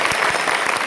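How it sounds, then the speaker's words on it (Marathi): A kirtan gathering breaks into brief, vigorous clapping, a dense burst of many hands close by lasting under a second. "ज्या ज्या माता माऊलीने या उत्सवाला भाकरी पाठवली असते त्या महिलांसाठी एकदा जोरदार टाळ्या"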